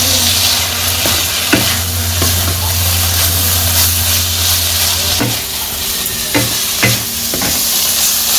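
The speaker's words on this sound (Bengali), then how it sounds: "শাপলাটা তেলের মধ্যে দিয়া মশলা দিয়া ভালো করে এই যে ভাজা ভাজা করে নিচ্ছি" Water lily stems fry in hot oil and spices with fish and onions in a village-style pan, sizzling loudly and close while a utensil stirs with scattered knocks and scrapes.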